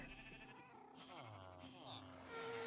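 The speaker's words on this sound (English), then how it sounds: "I have a screaming goat under my floorboards" A screaming goat in a base-building video game gives drawn-out, wavering bleats, a couple of strained cries one after another, up close over a steady background hum.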